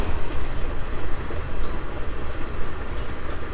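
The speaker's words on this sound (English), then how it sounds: "That train's moving pretty good now already." A train rolls past at speed in open North Dakota country, a loud steady rumble with rhythmic wheel clatter throughout.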